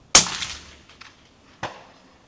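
A suppressed rifle shot through a TiTrex 300Ti titanium suppressor fires once with a sharp, loud crack, then a decaying outdoor tail and two fainter distant echoes or impacts.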